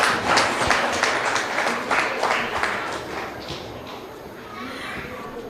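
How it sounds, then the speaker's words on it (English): An audience applauds at a preschool lab launch, sustained crowd clapping that slowly thins and softens over several seconds, with voices mixed in. "May I have a big round of applause for Anita ma'am and the demonstrations by the Tiny Tots"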